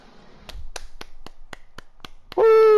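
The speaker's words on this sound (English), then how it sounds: "I'm the only one clapping" A lone person claps about eight times at a steady, fairly quick pace during a promotion ceremony in a video game, ending in a loud tonal whoop.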